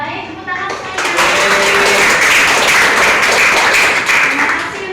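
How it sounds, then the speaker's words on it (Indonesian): Applause rises from an audience at a nursing-school health education session on sex education, a dense wash of clapping that swells after the first second and holds steady, with children's voices mixed in. "tepuk tangan saya"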